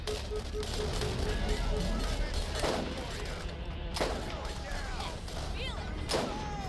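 Gunfire from the video game Borderlands, with dense overlapping shots and thuds running continuously under a steady bed of game sound, heavier bursts at intervals, while someone talks over it.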